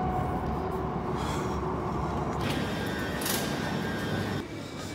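A train arriving at a station makes a loud continuous rumble and rushing roar, steady throughout with a brief hiss swell near the end.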